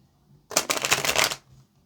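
Tarot cards shuffled by hand, a single quick riffle lasting about a second of dense, crisp flapping clicks, close and clear against a quiet room.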